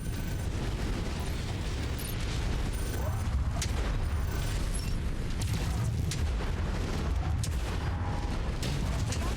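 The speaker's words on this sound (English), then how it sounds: "Explosion detected. Weapon destroyed." Battle noise from the MechWarrior 5 video game, where an explosion destroys a mech's weapon: a dense, continuous rumble of blasts and mechanical clatter that stays loud throughout.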